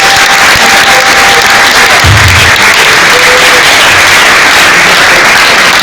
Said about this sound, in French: Est-ce qu'on peut applaudir bien fort pour notre icône?